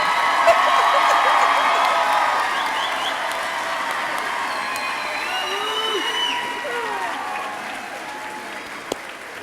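Graduates at a high school commencement in an academy hall erupt in sustained applause, cheering and whoops after moving their tassels, a loud crowd roar that gradually eases but continues throughout.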